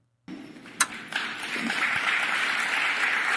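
An audience at a speech on housing policy breaks into applause after a sharp start: a few distinct claps, then a broad, steady wash of clapping that grows and holds to the end.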